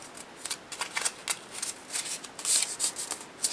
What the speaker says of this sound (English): you fold it all the way down like so, and then you fold the others up